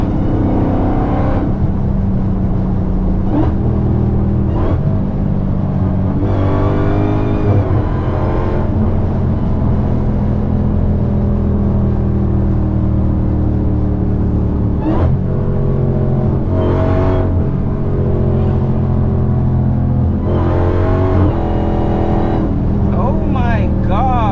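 Dodge Hellcat engine revving and accelerating in a car, a heavy low rumble swelling and falling in several surges, with someone talking over it throughout.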